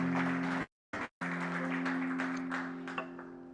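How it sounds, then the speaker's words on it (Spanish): Church congregation applause, a dense wash of clapping with a brief dropout, set against a steady sustained musical tone from a keyboard or organ. "Le damos un aplauso fuerte al Señor."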